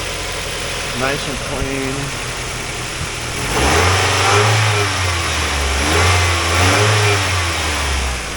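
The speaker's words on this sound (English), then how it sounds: "It's a cold start from overnight." A 2002 Mazda Miata engine cold-starting after sitting overnight, then revving in repeated rising and falling swells with a close, steady idle between them, while someone talks briefly over it.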